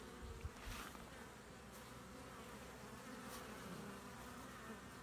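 Honeybees buzz around a hive in late summer, a faint, continuous soft drone of many insects flying close by, with a couple of brief louder passes and no talk.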